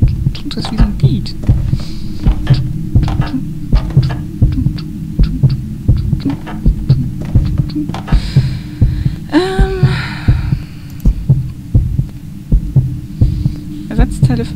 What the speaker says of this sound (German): das Herzklopfen macht mich ein bisschen nervös